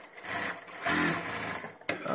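A Kingtex KLD 8520M industrial sewing machine stitches in a steady, loud mechanical whir with a brief pause and restart near the end, no voices over it.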